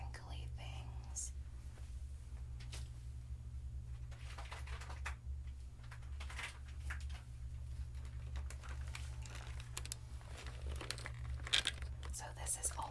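Snack packaging from a pantry is crinkled and crumpled close up in repeated bursts of crackling plastic, with soft whispering throughout.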